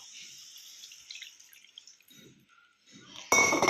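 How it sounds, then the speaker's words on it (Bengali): Water that was used to wash the masala splashes into a pan of cooking mushroom masala, a short loud gush at the end after quiet faint drips and clinks. "এবারে আমি এই যে ম্যারিনেট করে রেখেছিলাম এই মশলা ধোয়া জলটা দিয়ে দেবো"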